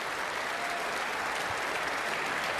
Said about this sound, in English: Listen to the applause there.